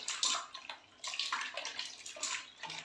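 Shelled apple snails are rinsed in water by hand, giving close sloshing, splashing and trickling in irregular bursts with brief pauses between them.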